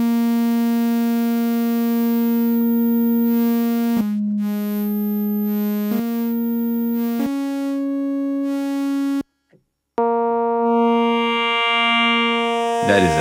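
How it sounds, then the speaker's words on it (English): Synthesizer tones with FM modulation gradually applied, a sustained harmonic-rich note that steps through several pitch changes, with a brief drop to silence near the end before the tone resumes, loud and alone. "That is an FM sending gradually FM to a synth."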